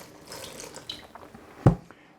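High-pH (11.5) alkaline water pours from an Enagic water machine as a soft, steady running hiss, broken by one brief, louder splash near the end.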